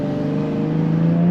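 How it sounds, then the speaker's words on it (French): Jaguar F-Type S convertible with a 380 hp engine and sport exhaust revs steadily, its deep exhaust note rising slightly in pitch toward the end, close and loud with no talking. "On a un très joli retour à l'échappement. Donc toujours très plaisant avec cet échappement sport."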